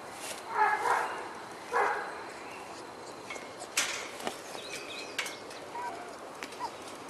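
A puppy gives a few faint, high yips and barks at a distance, scattered over a quiet room with light background noise.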